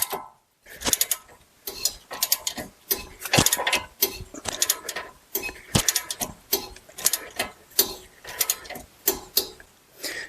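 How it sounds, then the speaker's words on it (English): A hand ratchet clicks in repeated short bursts, up close, as it draws a new wheel stud into a car hub. Each clicking run is separated by a brief pause, with no talking. "Then as we ratchet this down, it'll thread that in there."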